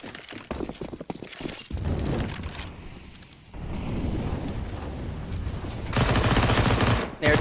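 MP9 submachine gun fire from a professional Counter-Strike: Global Offensive match, with dense rapid bursts of automatic shots layered over game ambience and commentator talk.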